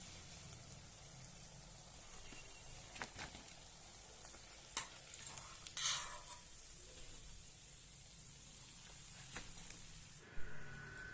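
Chili fritters (mirchi bhaji) frying in hot oil give a steady faint sizzle, with a few clinks and scrapes as they are lifted out.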